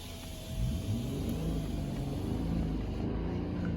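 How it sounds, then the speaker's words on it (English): A Mercedes GLE 450 SUV in sport mode rumbles with a deep exhaust note that swells as the engine revs up, a steady low drone close by with no talking. "in the sport mode, so we can hear listen to the exhaust"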